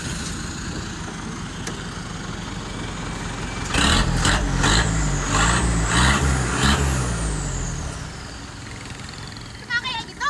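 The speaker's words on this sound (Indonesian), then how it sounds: "Emang ini knalpotnya jelek." A Madura-style "macan" truck idles with a worn, poor exhaust, a steady low rumble swelling louder with a few throttle blips midway, while people talk over it nearby.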